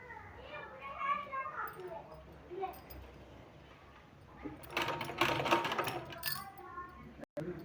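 A sewing machine stitches a fabric strip onto a sleeve, a faint whirring run mixed with talk and light handling of cloth, growing louder midway before a brief dropout.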